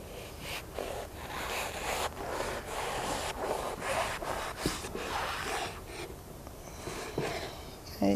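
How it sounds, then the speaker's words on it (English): A knife saws through a sponge in repeated rough scraping strokes, each cut a short rasping burst with brief pauses between, close and moderately loud. "I'm going to take my knife and I'm going to start cutting this sponge up into smaller and smaller pieces"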